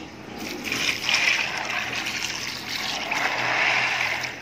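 Water is poured from a vessel into a pot of dried chickpeas, with salt and baking soda added, for soaking. A moderate, continuous splashing gush swells twice in the kitchen, close and fairly soft.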